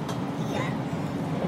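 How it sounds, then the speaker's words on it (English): Inside a moving train in Japan bound for Osaka, a steady low rumble fills the carriage with faint rail rhythm, while a voice talks softly over it. "We're inside the train."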